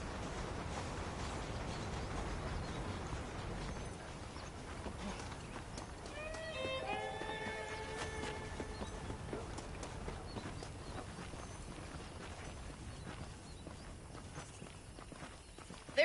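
Horse hooves clip-clopping at a walk in a western video game, a steady near rhythm of hoofbeats over ambient game background, with a brief whinny partway through.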